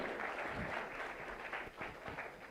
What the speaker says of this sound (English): Let's make a round of applause for him.